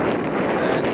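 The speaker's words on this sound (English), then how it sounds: "You can hear it's very windy." Loud, constant wind roars across the microphone during a forest walk, a dense rushing buffet that never lets up.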